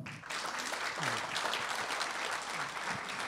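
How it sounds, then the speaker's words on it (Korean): An audience at an award ceremony for the 15th Dongmyeong Prize claps steadily, a dense wash of many hands, moderately distant and fairly soft, with no talking over it. "이병근 회장님께 다시 한번 큰 축하의 박수 부탁드리겠습니다"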